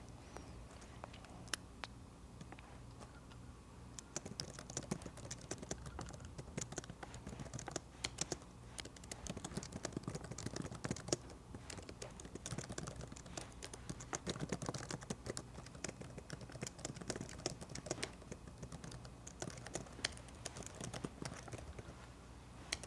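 Steady, rapid typing on a computer keyboard, close and even, with a dense run of clicking keystrokes and occasional louder taps continuing for over twenty seconds with no talking.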